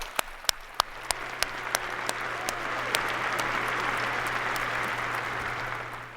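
An audience at a winter commencement breaks into applause, opening with a few sharp individual claps before swelling into steady, sustained clapping from a large crowd.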